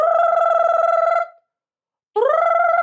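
A human voice imitates a ringing telephone with sustained, bright tones in two bursts separated by a short pause, loud and close with no other sound.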